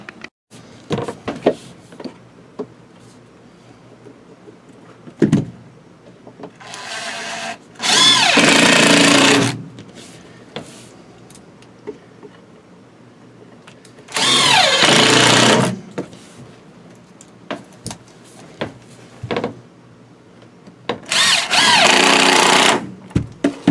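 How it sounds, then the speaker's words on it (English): Power drill boring pilot holes in wood trim inside a camper, three separate loud bursts of high-speed whirring, each about two seconds long, with quieter handling clicks and knocks in the pauses. "Just going to drill pilot holes. That way the wood doesn't split."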